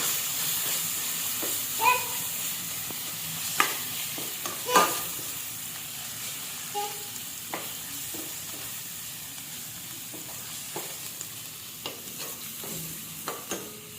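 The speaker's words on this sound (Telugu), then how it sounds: "పసుపు అల్లం పచ్చివాసన పోయేదాకా ఇలా వేయించుకోవాలి" Turmeric and ginger fry in a pan with a soft, steady sizzle, broken by sharp clicks and scrapes of a spoon stirring every second or so, close by and without speech.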